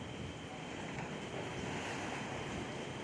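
Ocean waves crash and splash against the shore, a dense continuous roar of surf mixed with wind rumble on the microphone, loud and close with no clear voices.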